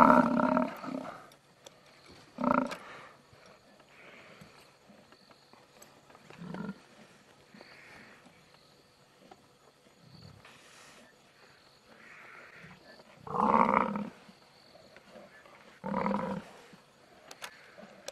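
A buffalo being killed by lionesses makes deep, irregular gurgling groans and roars, separated by quiet gaps, over faint insect buzzing in the African bush.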